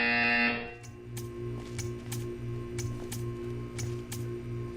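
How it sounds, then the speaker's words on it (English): A buzzer sounds in the video game Portal 2, pulsing in a steady repeating rhythm with sharp clicks over a faint, even electronic drone. "You will hear a buzzer."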